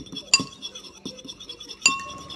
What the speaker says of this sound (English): you want to get a fork or a spoon or those things, whatever you mix eggs with. Then you want to stir.